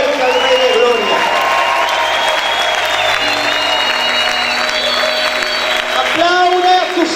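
Congregation at a church service clapping loudly and steadily, dense sustained applause with some cheering, a voice speaking over it at the start and end.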